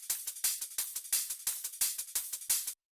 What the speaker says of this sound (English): all the hi-hats together sound like this.